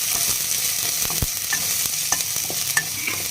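Onions stirred and frying in hot oil in a pan on a gas stove, with a steady close sizzle and occasional spatula scrapes and clicks, no voices.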